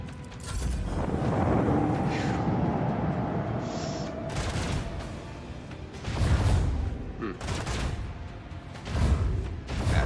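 A salvo of ship weapons fire in the Warhammer 40,000: Rogue Trader video game during void combat, with a dense rumbling barrage, several separate heavy booms and mechanical clatter under game ambience.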